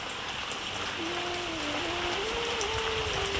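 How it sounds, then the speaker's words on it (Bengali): Heavy rain pours steadily outside a house under plastering work, a dense continuous hiss with no pauses, and a faint tonal hum drifts through the background. "নেমে গেছে বৃষ্টি কি করব আর কিছু করার নেই এখন তো বৃষ্টির ওয়েদার"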